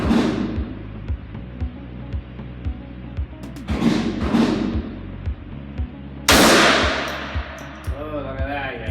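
Gunfire at an indoor shooting range: several sharp, evenly spaced reports cut through a rhythmic background thumping, with one louder, closer shot near the end followed by a ringing tail, the range din continuing underneath.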